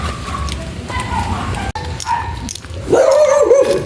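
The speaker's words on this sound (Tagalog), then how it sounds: "May aso!" A dog barks and yips outdoors near a street vendor selling balut, several loud excited barks with a rising whine at the end, mixed with people talking nearby.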